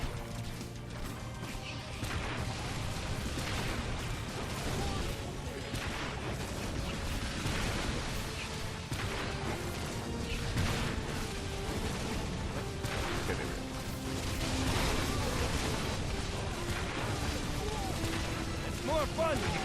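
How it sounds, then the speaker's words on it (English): Dense barrage of explosions and crashing impacts in the fantasy tower-defense game Orcs Must Die! 2, fighting fliers and an army of dwarves, rumbling continuously and loudly with overlapping bursts and a voice talking throughout. "just so many explosions"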